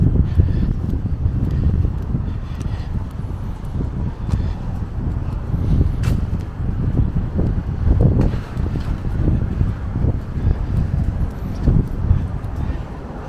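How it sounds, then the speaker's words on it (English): Outdoor wind buffeting a microphone on a street walk through the Bedford Park and Norwood area of the Bronx, steady low rumbling gusts throughout with faint traffic underneath. "breezy winds hitting me right now"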